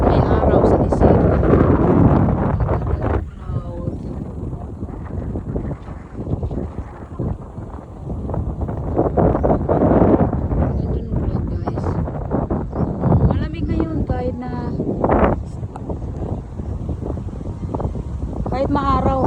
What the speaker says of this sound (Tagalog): Malamig na mahangin kahit may araw sa desierto.